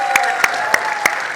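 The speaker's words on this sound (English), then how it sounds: "I definitely thought that was that table of youth clapping for themselves" A table of youths at a church family ministry Sunday service clapping for themselves, five sharp, evenly spaced claps, close and fairly loud over a steady background hum.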